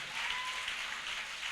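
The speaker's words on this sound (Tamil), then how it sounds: "என்ன விசுவாச கைத்தட்டு." A church congregation claps hands during Sunday worship, an even, continuous patter of applause that fills the room for the whole moment.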